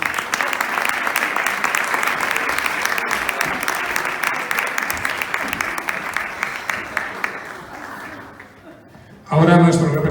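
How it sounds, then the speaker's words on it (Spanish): Audience applause fills a hall at a Falles Digitals event in Valencia, a dense steady clapping that fades out, then a voice speaks briefly at the end. "Un aplauso para ellos."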